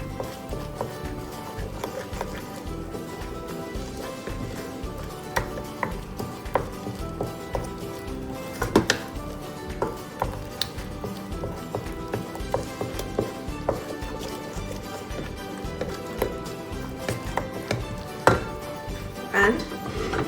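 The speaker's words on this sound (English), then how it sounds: "I'm going to mix this well." A spoon clatters against a pan while chickpea masala with garam masala and salt is stirred, a steady run of light scraping taps and knocks, fairly close, with no talking.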